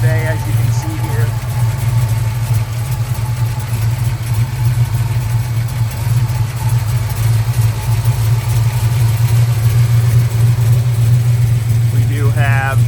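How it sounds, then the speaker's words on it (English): A 1970 Dodge Challenger's 440 cubic inch Mopar V8 with a four-barrel carburetor idles steadily with a deep, lumpy rumble that holds throughout, close and loud. "your 440 cubic inch Mopar V8 4-barrel. Really good running engine, great power."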